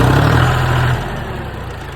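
Tractor engine running right after a self-starter motor is fitted, loud and close, with a heavy low rumble that steps down partway through into a steadier idle.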